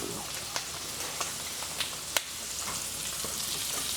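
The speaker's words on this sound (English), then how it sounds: "let this garlic infuse into the butter" Steak fries in butter with garlic in a pan, a steady close sizzle with scattered sharp pops and spits, no talking.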